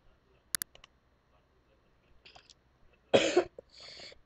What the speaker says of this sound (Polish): ja mam kaszel